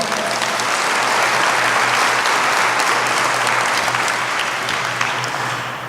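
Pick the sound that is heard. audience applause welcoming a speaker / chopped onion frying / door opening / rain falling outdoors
audience applause welcoming a speaker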